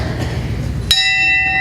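A bell is struck once at a university Founders' Day convocation, a sharp metallic strike after low rumbling background, leaving a clear ringing tone that sustains and fades.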